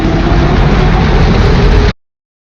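A loud, deep, steady growling hum from the linear motor launch of the Red Force roller coaster at Ferrari Land, with a rough rumbling texture, holding constant for about two seconds before cutting off abruptly.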